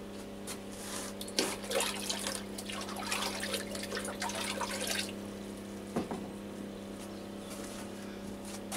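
Orchid feed is stirred into a container of water indoors, a soft sloshing and trickling swirl that runs for several seconds before settling, with a faint steady hum underneath and no speech.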